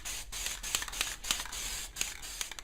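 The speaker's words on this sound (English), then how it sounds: "I'm going to spray it" A spray can lays matte finish on a Superman cinemaquette model in a steady hiss, broken by a few short, sharp bursts and clicks, close and fairly quiet.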